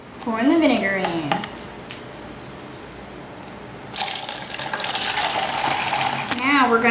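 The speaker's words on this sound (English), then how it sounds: "Pouring the vinegar in." Vinegar pouring into a plastic bottle, a close hollow gurgling stream that runs for a few seconds between stretches of speech.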